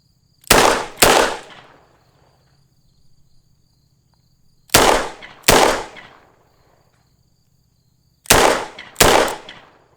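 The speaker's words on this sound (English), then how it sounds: "Double tap with the Taurus Raging Hunter and 44 Magnum." Taurus Raging Hunter .44 Magnum revolver fired in three quick double taps outdoors, each pair of sharp, loud booming cracks followed by a short decay, with quiet pauses between pairs.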